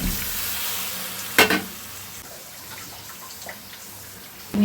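Chunks of elephant foot yam hitting a hot pan in a Bengali ol kosha dish, giving a steady sizzle with one sharp burst as they land and another loud flare at the end, with no talk.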